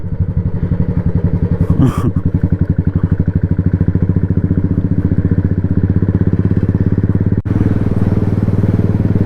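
A motorcycle engine thrums loud and close at high speed along a village road, a steady rapid pulsing drone with a brief clatter near the end.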